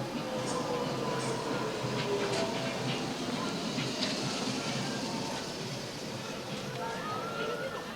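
A tram rumbling steadily along its rails, with a constant low roll, metallic squeals and a soft hiss throughout.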